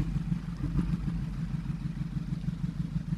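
A VW or Audi engine idles with a known misfire and a flashing check engine light, giving a steady low rumble with an uneven, pulsing beat close to the microphone and no voices.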